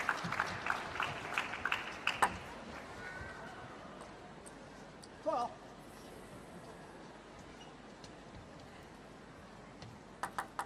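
Spectators at an ITTF Mixed Team World Cup table tennis match, Team China against Romania, clap in a short burst mixed with sharp ball clicks. The applause then dies down to a quiet hall hum with a few scattered claps.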